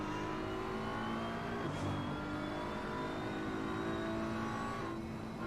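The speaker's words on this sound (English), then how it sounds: "Foot to the floor in the BMW." A BMW race car in the Assetto Corsa racing game at full throttle on a final qualifying sprint at Paul Ricard, its engine droning loud and steady with a rising pitch and a brief gearshift dip, with no talk.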